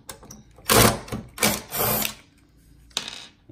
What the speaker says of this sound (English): We're going to take the screws off the base of the TV.